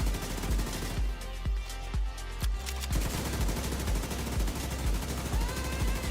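Rapid bursts of light machine gun fire from The Division 2, each shot a sharp crack in a steady rhythmic string, with a slower spaced run of louder shots early on, close and loud over a busy game mix.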